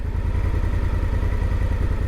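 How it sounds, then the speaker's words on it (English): A motorcycle engine runs steadily up close, with a constant low throbbing drone and a slight mechanical clatter throughout. "I'm on a motorcycle."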